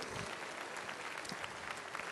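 Audience applause for students of the Institut Paul Bocuse serving the jury at the 2013 Coupe du Monde de la Pâtisserie, a steady dense clapping at moderate distance, fairly soft, with no speech.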